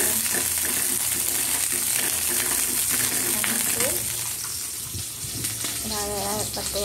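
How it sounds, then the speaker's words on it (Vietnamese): Purple shallots stir-fry in a hot pan with a steady, broad sizzle and crackle that runs throughout, with someone talking over it. "em xào củ hành"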